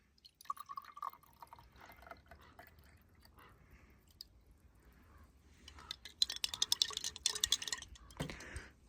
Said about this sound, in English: And I want right now decant this solution and wash that powder with the water.